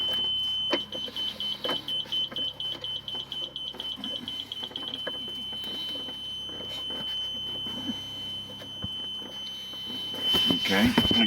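Rapid, evenly spaced electronic beeps from a Star tester hooked to the air ride trim sensor of a 1998 Lincoln Mark VIII, which change and then stop, with someone talking over them and some handling noise at the end.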